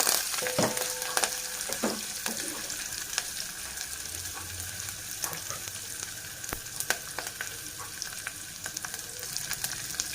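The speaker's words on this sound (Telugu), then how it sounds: "చూడండి, తాలింపు చక్కగా వేగుతుంది కదా." Onions and tempering spices frying in hot oil for a ridge gourd dal, a steady dense sizzle and crackle throughout with scattered pops and occasional utensil taps, close and without speech.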